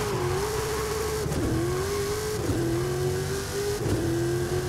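A Dodge Super Bee in Forza Horizon accelerates hard through its gears. The engine roar climbs in pitch and drops back at each of three upshifts, loud and continuous with no talk.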